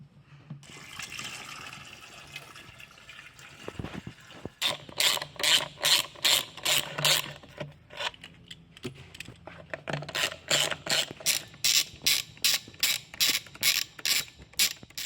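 Screws being backed out of an automatic transmission sump pan, a close mechanical ratcheting whir of a rapid run of regular clicks in bursts, following a stretch of dull handling noise.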